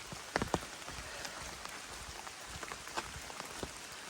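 Rain falls on a hiking trail along the Appalachian Trail near the Eastern Continental Divide, a soft, constant patter with scattered sharper drops striking close by, fairly quiet and with no voices.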